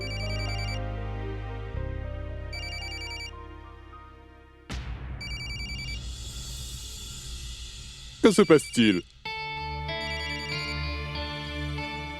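A mobile phone rings in a classroom scene of a dubbed TV drama, its melodic electronic ringtone sounding amid background music and sound effects while a voice speaks briefly.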